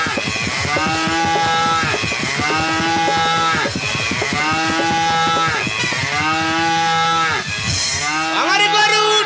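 A cow moos loudly and repeatedly, with long, drawn-out calls in a steady rhythm close by, ending in a shorter, rougher call.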